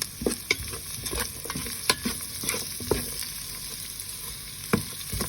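Larb chili paste stir-fried in a pan, a continuous sizzle with repeated scraping and tapping of a utensil at an uneven rhythm, close and fairly loud.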